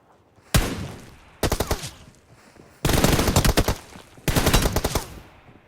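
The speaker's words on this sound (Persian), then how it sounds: "داداشمون کلا داره هدشات میزنه، نگاه کن" Rapid automatic gunfire from a video game shooter, landed as headshots, comes in four separate loud bursts with short quiet gaps between them, the later bursts running longer.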